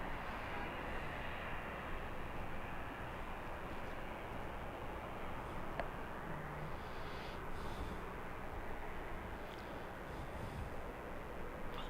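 An airliner touches down on a runway at Los Angeles International Airport, a steady, broad jet roar that holds at an even level throughout, with no talking.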